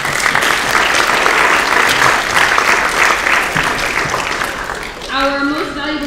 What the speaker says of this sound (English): So please give a round of applause for Kimberlyn.